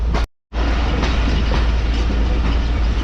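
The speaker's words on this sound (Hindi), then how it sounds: "हमारी ट्रेन रुकने के लिए पहुंच रही है।" The Mohen Jo Daro passenger train in Sindh rolls into Ruk railway station with a loud, steady rumble of wheels and carriages and a rhythmic clatter on the track. The sound cuts out briefly near the start.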